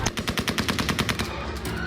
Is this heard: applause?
no